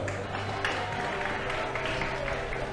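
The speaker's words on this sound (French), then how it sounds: "Des applaudissements pour l'Amical de Marie-Galante." A crowd at a football match applauds the Amical de Marie-Galante team, a dense, continuous wash of clapping and crowd noise heard from a distance.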